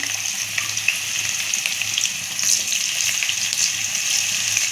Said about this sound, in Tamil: எண்ணெய் நல்லா காஞ்சிருச்சுப்பா இப்போ வந்து சேனக்கிழங்க போட்டு நம்ம பொறுத்து எடுத்துருவோம்